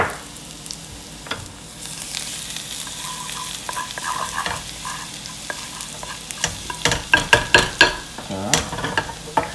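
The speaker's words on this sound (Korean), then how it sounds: "마늘하고 오레가노. 오레가노 없으면 안 넣어도 돼요. 로즈마리 넣고 볶아줍니다." Garlic, oregano and rosemary stir-frying in a pan, with a steady sizzle and repeated scraping, tapping strokes of a utensil that grow louder and more frequent toward the end, close up and without speech.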